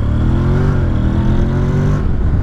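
A Honda NC750X motorcycle accelerates away from a red light, its engine note climbing loud and close in one smooth pull before easing off.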